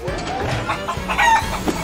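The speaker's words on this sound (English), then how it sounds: "Stop. You scared the chicken." Chickens cluck and squawk agitatedly, close and fairly loud, several short calls over a busy background, with no speech.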